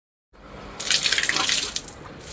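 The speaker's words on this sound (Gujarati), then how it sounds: "અને પાણીથી આપણે સાફ કરી નાખીશું અંદર જે બી ખાર છે તેને" Water from a tap rushes and splashes over the scale-crusted heating coil of a Bajaj 10-litre electric geyser, starting after a moment of silence and running steadily close by.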